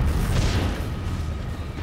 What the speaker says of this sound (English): Two concussion grenades rip through the rear of the store